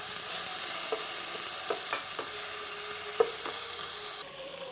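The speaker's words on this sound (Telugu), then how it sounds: "బరుగులు వేసుకొని ఇంకా కింద పైన అంతా నీట్గా కలబెట్టుకోవాలి" A spoon works through puffed rice (borugulu) in a pan with turmeric, scraping and clinking in a few sharp strokes over a soft continuous sizzle, close up, before the sound drops away near the end; nobody speaks.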